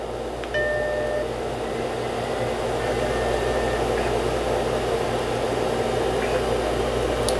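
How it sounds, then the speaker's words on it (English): A steady mechanical whir and hiss from a running MiniScribe hard drive, with faint intermittent high chirps and clicks over a constant hum. "It sounds like this hard drive is a mini scribe"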